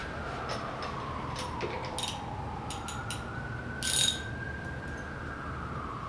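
A motorcycle fork cap on an SSR Razkull 125cc being tightened, quiet ratchet clicks in short bursts with a brief louder metallic rattle near the end, over a faint background hum.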